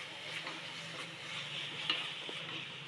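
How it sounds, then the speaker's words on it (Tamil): Tomatoes sauté in a pan for mint rice, giving a faint, steady sizzle with a few light taps and scrapes of a spoon. "இப்போ தக்காளி நல்லா வதங்கிடுச்சு"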